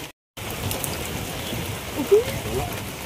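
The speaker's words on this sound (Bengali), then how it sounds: "প্রচন্ড বৃষ্টি হচ্ছে" Heavy rain falls steadily beside a canal, a dense continuous hiss of drops close by, with a brief louder patch near the middle and no talk over it.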